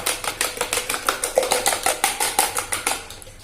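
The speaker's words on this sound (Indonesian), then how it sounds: "ini akan saya kocok lepas aja seperti ini" A whisk beats ingredients for pempek in a bowl, a fast, steady run of about twenty crisp clicking strokes, close and fairly loud, with no talking.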